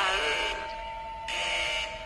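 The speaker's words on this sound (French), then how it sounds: "l'alarme de la morgue vient de se déclencher" A morgue alarm sounds as a steady electronic tone with a higher buzzing layer that cuts out briefly and then returns, heard at moderate volume in a quiet room.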